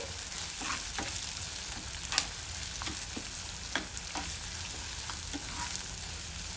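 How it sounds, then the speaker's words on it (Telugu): Spices for the tempering of Rayalaseema-style pappu pulusu fry in hot oil until brown, giving a soft, continuous sizzle scattered with small pops and stirring clicks, with no talking. "అప్పటి వరకు మనం వీటిని ఫ్రై చేసుకుందాం"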